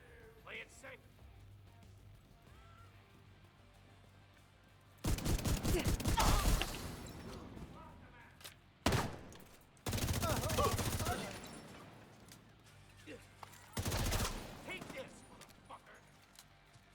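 Automatic gunfire from a player's weapon in The Division, three loud rapid bursts with a single sharp shot between them, separated by quiet gaps with faint game ambience.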